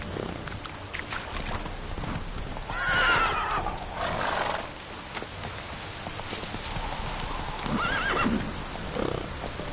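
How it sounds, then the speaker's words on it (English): A horse in the video game The Witcher 3 whinnies twice, a sharp neigh early and another near the end, over steady clip-clopping hooves and ambient game noise. "Whoa there, Roach."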